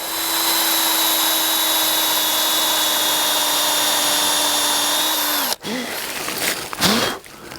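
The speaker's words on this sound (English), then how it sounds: "Okay, so we're going to drill." A power drill bores a tap hole into a maple tree, a steady whine holding for about five seconds before cutting off, followed by brief rough bursts as the bit is worked in and out.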